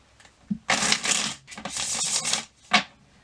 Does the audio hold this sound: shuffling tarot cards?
yes